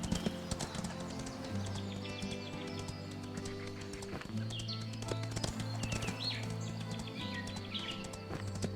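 Horse hooves clip-clop at a steady walking rhythm in the farm game Windstorm, with low engine-like tones droning underneath and occasional bird chirps nearby; no voices are heard.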